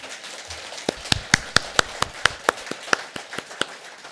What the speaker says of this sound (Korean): 우리 박수 한번 쳐드릴게.